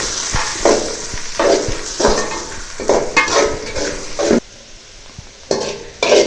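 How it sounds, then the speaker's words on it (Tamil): Onions sautéed and stirred in a pan for egg noodles, with repeated scraping and clinking strokes of a spoon against the pan over a soft sizzle, in bursts broken by short pauses. "இப்போ இது கூட வெங்காயத்தை சேர்த்து நல்லா வதக்கிக்கலாங்க"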